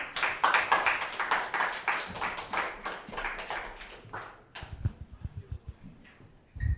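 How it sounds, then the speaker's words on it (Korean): Applause from a youth worship service congregation at a church, dense clapping for about four seconds that thins out and fades, followed by a few scattered low thumps and shuffling. "박수"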